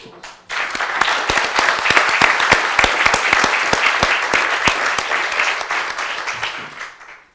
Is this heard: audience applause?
yes